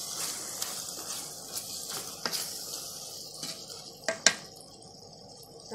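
Meat with spices being stirred in a cooking pot, quiet scraping and clinking of a spoon against metal with a soft sizzle underneath, a few sharper knocks near the end, no talking.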